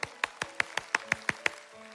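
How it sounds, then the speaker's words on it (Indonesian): Church congregation clapping during a worship service, about nine sharp, evenly spaced claps in a quick rhythm, fairly faint with a hum underneath. "Berikan tepuk tangan buat Tuhan kita."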